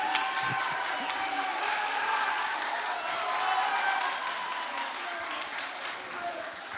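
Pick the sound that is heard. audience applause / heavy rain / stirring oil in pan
audience applause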